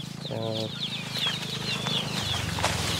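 A caged pen of about forty native chickens clucks steadily, with overlapping soft clucks and a few sharper, higher calls rising above the flock's constant murmur.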